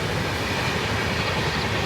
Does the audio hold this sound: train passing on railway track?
yes